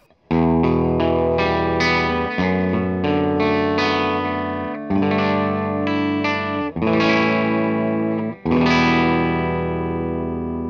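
An Epiphone G400 SG electric guitar on its Alnico 2 bridge pickup plays sustained, ringing chords with distortion, strummed in a steady series of loud hits with a few brief gaps.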